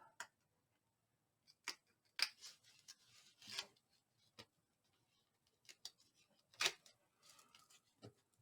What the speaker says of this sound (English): Take the tape backings off.